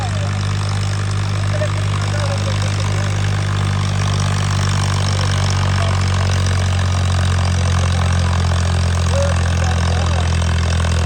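A tractor engine runs at a steady idle-like drone, loud and continuous, at a tractor pulling contest with Jagga Boss modified Arjun Novo, standard Arjun Novo and Farmtrac 60 tractors.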